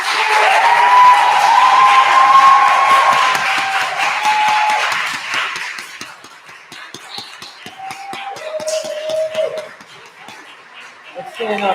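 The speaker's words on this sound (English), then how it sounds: "So let's have one more round of applause for all of our seniors." An audience applauds high school orchestra seniors, with scattered claps and light laughter mixed under talking voices, fading toward the end.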